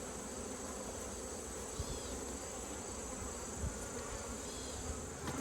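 Bees hum in a soft, continuous drone at an opened hive in late August, with a few faint knocks and shifts in the background and no voices.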